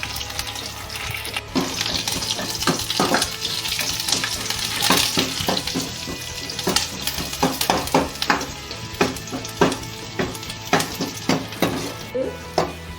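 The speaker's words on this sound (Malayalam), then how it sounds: "ഇഞ്ചി, വെളുത്തുള്ളി ചതച്ചത്." Crushed ginger and garlic, with curry leaves, fry in hot oil in a pan, giving a steady close sizzle broken by repeated sharp crackles and spatters as the spices are stirred.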